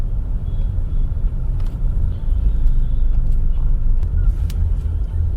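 Daily road traffic near JVLR in Mumbai rumbles as a steady, dense low roar of passing vehicles, close by and continuous, with a few faint higher clinks and hisses over the drone.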